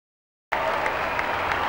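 A crowd of about 2,400 faithful applauds to welcome a man, breaking in abruptly after a moment of silence and holding as a steady, dense wash of clapping.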